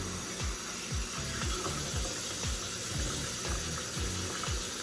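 Tap water runs while tinted hair lace is rinsed, a steady hiss of flowing water with repeated low thumps and handling knocks beneath it.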